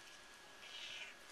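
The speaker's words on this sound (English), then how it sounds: "Aww, yeah, she meowed." A mother house cat lets out one soft, brief meow, faint and distant over a low background hiss.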